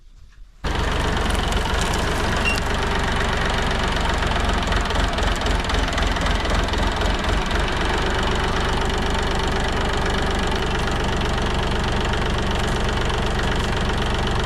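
A mini tractor engine runs steadily after starting, a loud close knocking diesel chug that continues without pause and with no talk.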